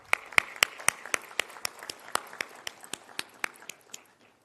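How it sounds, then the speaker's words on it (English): An audience at a youth entrepreneurship event claps in a loose, steady run of sharp hand claps that rings out fairly clearly, then thins and fades toward the end, with no talking over it. "Some claps for that."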